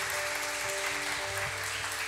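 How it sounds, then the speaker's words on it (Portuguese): A steady wash of applause from a church congregation fills the space, continuous and even, with a sustained tonal hum underneath. "Vamos dar uma salva de palmas para o nosso Senhor Jesus"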